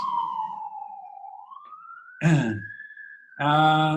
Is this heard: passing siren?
yes